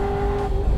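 A 2019 Chevrolet Camaro SS 1LE engine runs at speed on a race track while the gear is held, a loud, sustained tonal drone with strong harmonics and rumbling low end, close and continuous.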